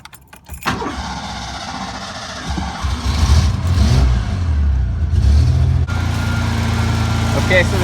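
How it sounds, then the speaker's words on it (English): A 1990 Ford Bronco II truck engine runs steadily after a fuel pressure regulator fault caused starting trouble, a loud close rumble that holds through the clip with brief shifts in pitch, joined by faint background noise. "Okay, so the truck is running"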